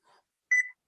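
An oven timer beeping as its buttons are pressed while set for an hour at 350 degrees: a faint short blip, then a single brighter, louder electronic beep, close and alone.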